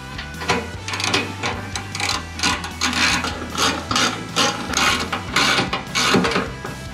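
10 mm ratchet tightening the bolts that hold the bumper to the skid plate on a Toyota Tundra, giving a continuous close, rasping clicking as the handle is worked back and forth in quick strokes.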